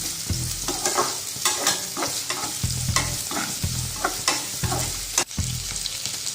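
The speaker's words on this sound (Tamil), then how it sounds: "இதுலயே கொஞ்சமா கேரட், பீன்ஸ், இது ரெண்டும் சேர்த்து கொஞ்சம் ஃப்ரை பண்ணிட்டு அதுக்கப்புறமா கொடமிளகா சேர்த்துடலாம்." Carrots and beans sizzle in a hot pan for Schezwan egg fried rice, loud steady frying with repeated scraping stir strokes at roughly regular intervals, close up and with no talk.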